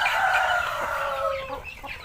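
Chickens cluck steadily inside a coop after heavy rain and strong wind, a dense, fairly loud chorus of overlapping clucks and calls that thins slightly toward the end.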